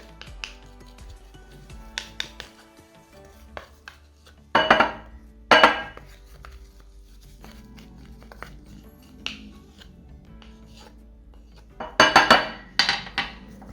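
A chocolate and almond mixture for a tart, stirred in a bowl with a utensil: scattered scraping and stirring with a few sharp knocks and clinks against the bowl in separate bursts.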